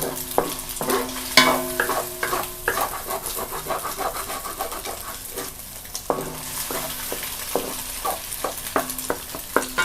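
Eggs frying with garlic in pork lard, stirred in a pan for Thai-style stir-fried noodles; steady close sizzle with repeated scraping and stirring clatter throughout, with no talk.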